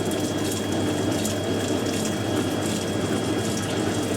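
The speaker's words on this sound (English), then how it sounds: "pour a bit of water there" Water pours steadily into a Zanussi Jetsystem Excel 1250 top-loading washing machine, a constant close splashing rush with faint mechanical clicks and no talking.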